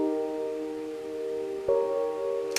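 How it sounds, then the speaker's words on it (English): A simple chord progression played back in FL Studio: steady sustained synth chords that change once midway, alone with no talk, ending with a brief click. "So now our chord progression is going to sound like this."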